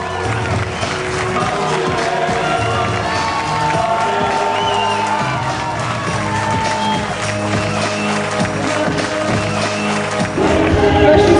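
Race crowd at the finish of the Aubrac Marathon des Burons trail run applauding and cheering the winner, a steady dense roar of clapping and shouts that swells louder near the end.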